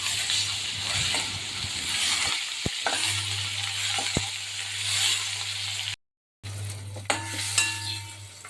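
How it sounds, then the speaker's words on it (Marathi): Stuffed tomatoes fry in a pan on low heat with a continuous sizzle, a low steady hum underneath, and a few spoon or pan clinks. There is a brief gap of silence before the frying resumes. "आता याच्यावर एक एक टोमॅटो टाकून छान परतून घ्यायचे आहे"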